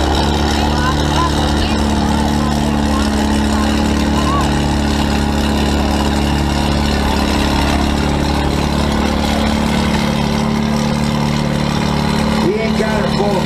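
A 1950 pulling tractor at a harvest days tractor pull, running below full throttle, gives a loud, steady, low engine drone throughout, with voices heard over the machine.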